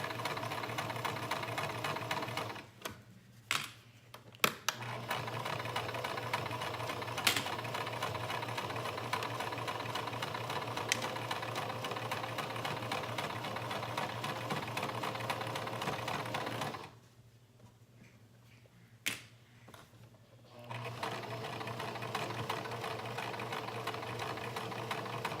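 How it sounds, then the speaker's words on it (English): A sewing machine runs a straight stitch in a steady, rapid mechanical whir, close and continuous, with two short pauses where the motor stops, and no voices. "And I'm using a straight stitch. I'm not using a zigzag stitch because I'm probably going to serge my seams."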